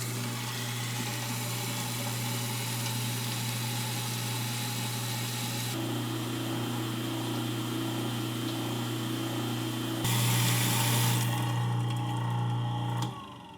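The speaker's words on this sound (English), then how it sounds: "Now it's just time to leak test and test out the disposal" A newly installed 3/4 horsepower garbage disposal runs under a sink with water flowing, giving a steady motor hum with a low drone that rises and grows louder near the end before stopping.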